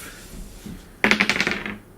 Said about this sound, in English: now it all depends on that dice roll